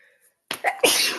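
One loud, close sneeze bursts out after a short silence, a quick intake followed by a sharp explosive release.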